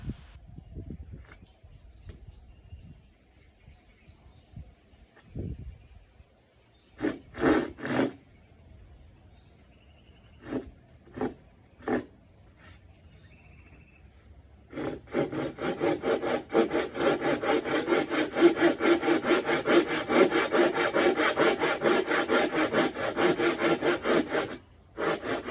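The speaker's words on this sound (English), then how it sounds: "My first option for cutting the piece of wood was to use the normal hand wood saw" An ordinary hand wood saw cuts a piece of wood. A few short separate strokes come first, then a long, fast run of rhythmic rasping strokes, loud and close.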